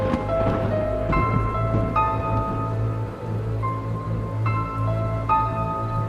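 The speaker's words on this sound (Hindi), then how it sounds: "काफी तेज बारिश होने लगी और साथ में बिजली की कड़कड़ाहट" Heavy rain with rumbling thunder as a horror-story sound effect, a constant downpour hiss under low rolling thunder, with faint tonal music notes layered over it.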